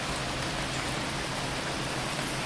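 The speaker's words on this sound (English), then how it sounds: "The rain is coming from very small clouds, as if the planet is sucking the water out of them." Steady rain falls on an alien planet in a video game, a dense, even hiss of drops with no breaks and no voices over it.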